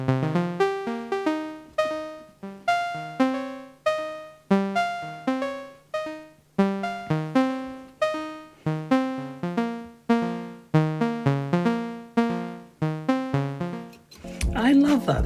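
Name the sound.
synthesizer melody panned left and right by CV panning mixer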